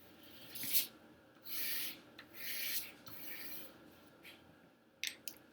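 A pastel stick drawn across paper in short, even strokes, giving soft dry rubbing scrapes with brief pauses between them, close and fairly quiet with no voices.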